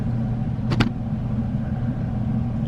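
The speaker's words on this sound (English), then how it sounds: "that's a like semi truck with a trailer over there" A semi truck with a trailer driving by on a cold, icy day, a steady low engine rumble and road noise with a couple of sharp clicks early on, no talk.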